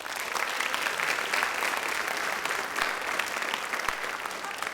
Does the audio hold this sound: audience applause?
yes